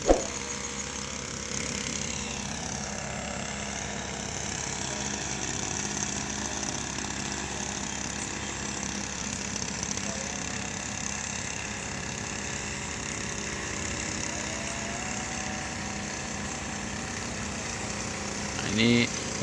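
A motorized backpack sprayer engine runs steadily throughout while chili beds are sprayed on a farm plot, a continuous buzzing drone with no clear pauses and a brief louder bump near the end.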